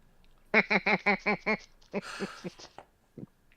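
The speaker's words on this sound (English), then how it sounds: "Trudeau, visibly shaken by the honking geese" Geese honk in a quick run of six loud, evenly spaced calls, followed by a rougher burst and several scattered honks that fade to a single last call.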